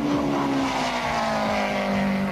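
A tuned Japanese car screams past at full throttle on a top speed run, hitting over 300 km/h, its loud engine note droning steadily with a falling pitch as it passes, with no talk over it.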